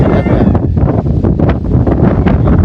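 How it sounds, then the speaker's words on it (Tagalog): Strong wind buffets the microphone in a continuous, loud roar with gusting surges and no pauses. "Lakas na hangin."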